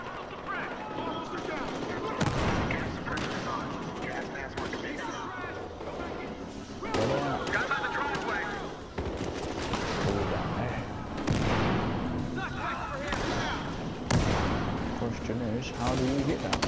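Machine gun fire in a video game, bursts of rapid shots crackling repeatedly over a busy, noisy mix, with a person talking over the action.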